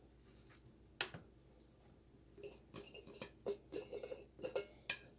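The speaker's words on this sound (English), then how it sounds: "we're just gonna go ahead and put our meat in our pan" Ground beef meatloaf mixture with onion is pressed and slapped into a pan, giving a series of soft, close, wet thuds and scrapes along with light clinks against the pan.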